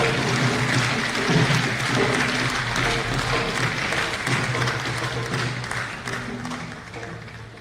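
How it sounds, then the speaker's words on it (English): Applause fills a large theatre at a live anniversary show, a broad, sustained roar of clapping from a big crowd with faint voices underneath, easing off slightly toward the end. "Oh, I'm happy the clapping started from the front. Let it spread to the back."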